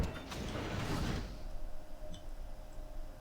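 A sci-fi door slides open in Star Wars: Knights of the Old Republic 2, a loud mechanical whoosh and grind for about a second, then fading into a quiet hum with faint clicks.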